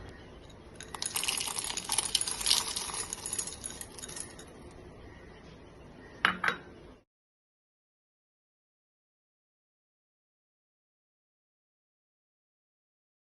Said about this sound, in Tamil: மஞ்சள் வந்து இந்த மாதிரி அந்த அளவுக்கு சத்தம் வர அளவுக்கு காஞ்சி நம்ம மிக்சியில் போட்டு அரைச்சி வச்சுக்கலாம்